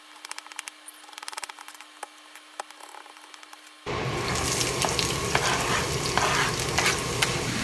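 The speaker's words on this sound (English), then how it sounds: "we're going to just pan sear the pork chops lightly" Breaded pork chops pan-seared, heard as a quiet stretch of faint clicks before a loud, dense sizzle breaks in halfway through and holds steady to the end.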